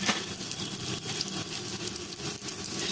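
Cumin and asafoetida drop into hot oil in a pan, producing a steady, dense sizzle with faint crackles throughout, close and continuous with no talking.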